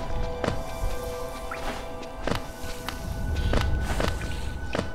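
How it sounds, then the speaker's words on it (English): Footsteps in the video game Hollow Knight tap in a steady, sparse rhythm of sharp clicks over a constant ambient hum, growing slightly louder as they approach. "I can hear footsteps."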